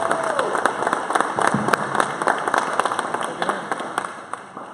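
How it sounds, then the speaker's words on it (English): An audience applauds after a pitch presentation at a startup community event in Kansas City, with dense, steady clapping from a roomful of people that fades out at the end, with voices briefly audible underneath. "Big round of applause."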